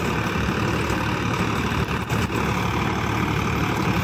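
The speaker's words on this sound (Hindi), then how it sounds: "बहुत प्यारी आवाज़ है ट्रैक्टर की" A modified Ford 3610 tractor engine runs at a steady idle, a constant low rumbling chug close by, with a brief dip in the middle.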